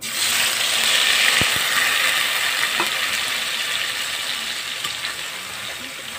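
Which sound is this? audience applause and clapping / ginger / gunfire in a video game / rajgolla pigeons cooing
ginger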